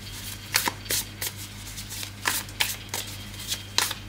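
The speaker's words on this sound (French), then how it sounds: "je commence mon tirage avec le tarot, The Muse Tarot" Tarot cards from The Muse Tarot deck are shuffled by hand, giving about eight or nine crisp riffling bursts at an uneven pace, close and clear over a low steady hum.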